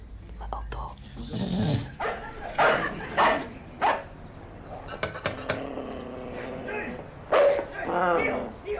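A dog barks a few times in short bursts from a little distance, mixed with clinking dishes and cutlery, while people talk quietly and whisper nearby.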